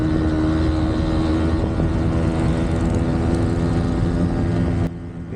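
A Yamaha YB100 two-stroke motorcycle engine runs with a steady, buzzing drone, loud and close, before cutting abruptly to a quieter hum near the end.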